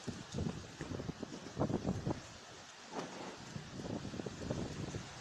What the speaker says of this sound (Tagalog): patuloy na nagpapamalas ng lakas ang bugso ng hangin at ulan na dulot ng bagyong